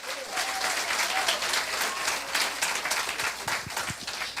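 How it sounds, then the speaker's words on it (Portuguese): A church congregation applauds during a Sunday sermon, steady dense clapping from a large crowd held at an even level throughout, with faint scattered voices and shouts mixed in. "Aplauda Jesus, meu irmão."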